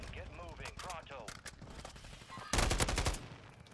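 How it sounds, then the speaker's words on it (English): Gunfire in a multiplayer shooter video game, a burst of sharp shots near the end after tonal game sounds and effects, with a voice over the action. "They're shooting us from tower roof light up there."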